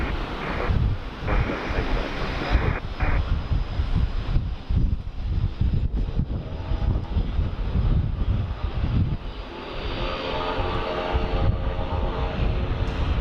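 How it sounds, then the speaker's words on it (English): A Saab 340 turboprop runs its engines at full throttle for a ground test at Sydney Airport, a steady distant roar heard outdoors, mixed with wind buffeting the microphone, with no talking. "the sounds of the Saab 340, the engine tests over there are great"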